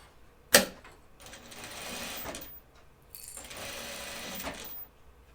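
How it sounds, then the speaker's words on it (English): A sewing machine edge stitching a pair of Hudson pants runs in two steady bursts of rapid stitching separated by a short pause, preceded by a sharp click, fairly close and with no talking. "I'm just going to edge stitch this in place."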